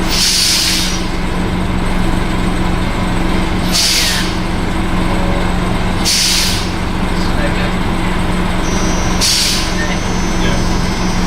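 A bus air brake at a used bus yard lets out four sharp, loud hissing bursts a few seconds apart over a constant engine rumble, with people talking nearby.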